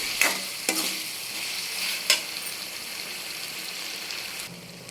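Tomatoes frying in a pan for ridge gourd chutney give a steady hissing sizzle, with a few sharp stirring clacks early on and no voices.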